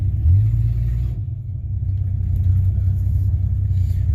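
A gasser-style car engine idles with a deep, steady rumble, then pulls away, the low throb holding loud and close throughout with a slight rise as it moves off.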